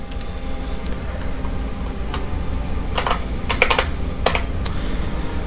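Keystrokes on a computer keyboard during a Dungeon Hack game session, a few light scattered clicks followed by short bursts of typing over steady low background hum, close and moderately quiet.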